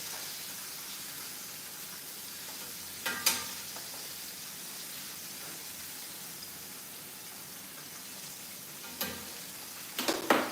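Pork chops frying in a pan give off a steady, even sizzle and hiss that runs throughout, broken by a few sharper pops and spatters near the start and toward the end, with no talking.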